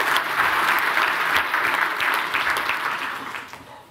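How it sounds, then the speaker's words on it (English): Audience applause at a technical infrastructure talk, a dense steady wash of many hands clapping that fills the room and then slowly fades away. "Round of applause for people running services that are going that long."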